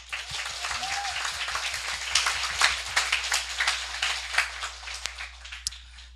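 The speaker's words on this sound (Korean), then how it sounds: "우리 본인 자신들을 위해서 박수 한번 주세요" An audience at a business motivational lecture claps together in sustained applause, a dense crackle of many hands that swells and holds for several seconds, with a brief low voice near the start.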